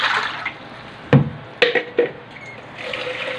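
Water poured into a cooking pot to boil for black tapioca pearls, heard as a few short splashing bursts and trickles close by against a quiet background.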